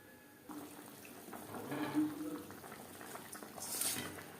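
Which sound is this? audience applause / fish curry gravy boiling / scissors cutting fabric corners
fish curry gravy boiling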